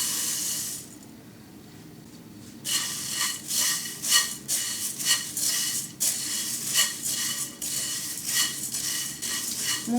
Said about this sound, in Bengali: কড়াইতে আমি মুড়িগুলো দিয়ে একটু ভেজে নেব।